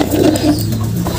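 Soft, low cooing of pigeons in a loft, a short murmuring burst heard up close with nothing else over it.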